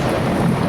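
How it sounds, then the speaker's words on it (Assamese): Thunder rumbles through a heavy rainstorm with strong wind. A dense, loud wash of rain mixes with a low, continuous rumble for a brief moment, with no voices. "একেবাৰে ধুমুহা গাজনি গোটেই আহিছে।"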